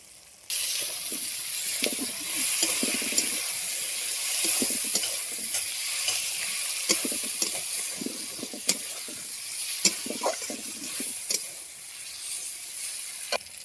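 Fried potatoes are stirred into a pan of spice masala cooked down in oil, a continuous sizzle and hiss broken by repeated scraping and knocking of the spoon against the pan, close and steady throughout.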